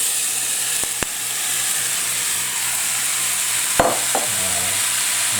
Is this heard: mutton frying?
yes